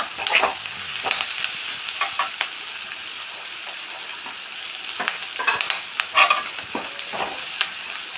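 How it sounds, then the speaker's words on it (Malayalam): Green chillies and sliced onion sauté in a pan, a steady sizzle broken by repeated scraping stirs of a spatula, close and fairly loud, with no one talking. "അപ്പോൾ നേരിയതായിട്ട് ഒന്ന് വഴറ്റാം"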